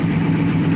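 A Mopar car engine rated around 378 horsepower and 373 lb-ft of torque idles steadily up close, a low, even rumble with no voices over it.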